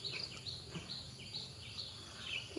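Birds and crows call on a morning after rain in a large garden, with faint, high chirps repeating every half second or so against a quiet background.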